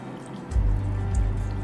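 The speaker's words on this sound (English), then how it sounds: "pour hot water" Hot water is poured into a cup of instant pre-mixed coffee with sugar and milk, a short steady loud trickle starting suddenly and running close to the microphone.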